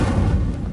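A quick fire-spell blast in Hogwarts Legacy, a brief, loud, rumbling whoosh of flame with no voices over it.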